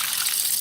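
Water gushes briefly and close by while a mess is being cleaned up, a short steady pour with no talking.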